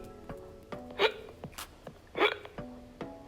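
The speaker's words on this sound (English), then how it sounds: "It's a hiccup." Two sharp human hiccups about a second apart, each a short, abrupt catch of breath with a slight voiced squeak, close and clear over a quiet room with faint vocal sounds between them.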